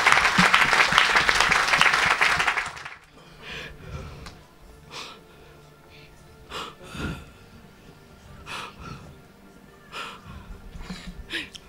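A church congregation applauding, dense loud clapping for about three seconds that stops abruptly, followed by scattered breaths and faint murmurs.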